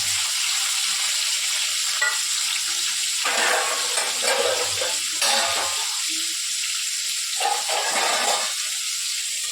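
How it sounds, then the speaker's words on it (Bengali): Beetroot pieces drop into hot oil with cinnamon in a home pan, giving a loud, steady sizzle and hiss with small bursts of spattering throughout. "এবারে প্রথমে বিটগুলো দিয়ে দেব।"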